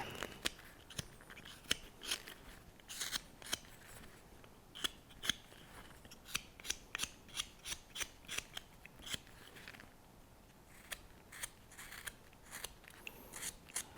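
A knife whittles wood while a small Santa is carved, rounding off the hat. Quiet, close, repeated crisp shaving and slicing cuts come in an irregular rhythm throughout, with no talk.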